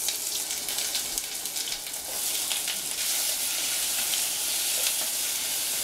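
Lamb and vegetables sizzle loudly in a pot, a dense continuous hiss and crackle with occasional stirring scrapes, close and steady for several seconds with no talking.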